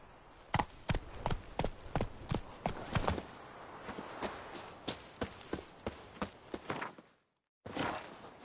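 Roach, the horse in The Witcher 3, gallops with loud, close hoofbeats in a quick uneven rhythm, then a brief silence cuts in before the hooves resume.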